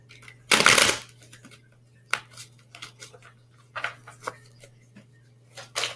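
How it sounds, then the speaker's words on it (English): A deck of tarot cards is shuffled up close, opening with a loud riffle burst and followed by softer shuffling and card handling over a steady low hum, with no talking. "shuffle these cards really quickly"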